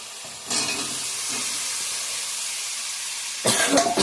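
Sliced potol (pointed gourd) and potatoes hit hot oil in a pan, giving a steady broadband sizzle with louder bursts at the start and again near the end, heard close up with no talking.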